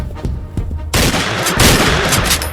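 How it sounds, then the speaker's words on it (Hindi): A rifle shot cracks loud and sudden from a horseman's gun during a hunt for a fleeing deer, its broadband blast sustained and roaring after a quieter lead-in, with no talk. "अश्वारोही की बंदूक से गोली छूटी"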